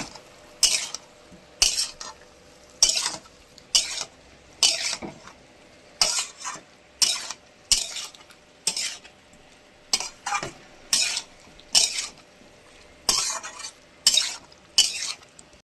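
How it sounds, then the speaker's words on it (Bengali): Potatoes with green jackfruit being sautéed in a pan, a spatula scraping and stirring in a steady rhythm of about a dozen sharp strokes, each roughly a second apart, over faint sizzling; nobody speaks. "একে একে আলুও আমি দিয়ে দিলাম এঁচোড়ের মধ্যে। এবার কষাতেই থাকবো এরকম।"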